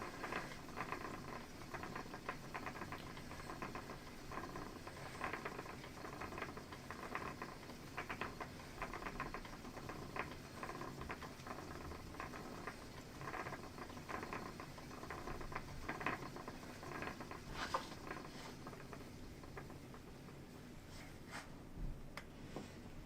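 A spinning wheel twisting wool onto a nearly full bobbin makes a faint, steady whirring patter with light rhythmic clicking that runs without a break throughout.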